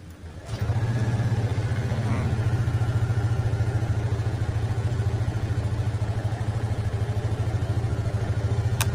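A Yamaha NMAX V2 2024 scooter engine starts after a brief click, then settles into a loud, steady close-up idle with an even mechanical putter that runs unbroken to the end.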